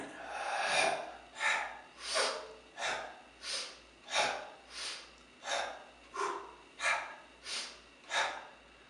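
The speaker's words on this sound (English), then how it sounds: "align with your breathing. Out, in." Rhythmic breathing out and in, close and clear, a steady series of about eleven breaths each lasting under a second with short pauses between.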